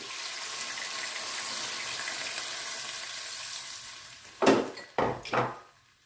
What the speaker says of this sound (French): ici, je mets la moitié d'un verre d'eau.